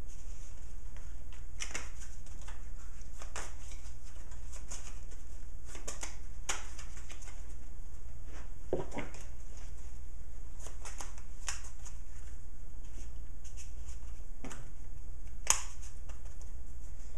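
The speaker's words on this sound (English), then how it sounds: "Then I'm going to shuffle it. Shuffle it up." Playing cards shuffled during a two-pile card trick, a series of quick riffles and snaps spaced across a quiet room, each burst brief and crisp against a low steady hum.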